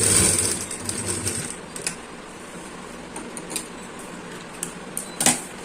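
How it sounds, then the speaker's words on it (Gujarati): A sewing machine stitches around the edge of a fabric ironing-board cover with a loud whirring run at first, followed by quieter mechanical clicks and a sharp clack near the end. "આપણે ફરતી બાજુ સિલાઈ લઈ લેવાની છે"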